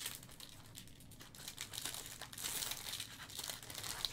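A 2022 Topps Pristine trading card pack wrapper being torn open by hand, close crinkling and ripping foil that grows louder and denser toward the end, with no voices.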